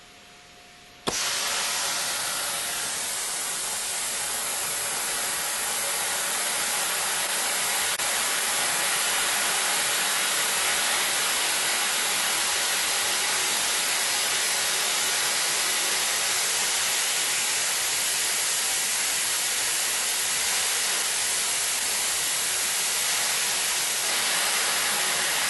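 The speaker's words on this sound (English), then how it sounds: "As the pressure is increased, more and more of the nozzles will cut off until none are spraying." Spray nozzles on a manifold bar hiss steadily as air pressure is increased, the sound switching on abruptly after a second of quiet and then holding as a constant broad, fairly loud rush.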